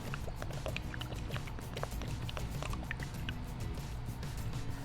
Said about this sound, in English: I'm going to go ahead and add 2 quarts or 64 ounces right into this bucket onto these rolls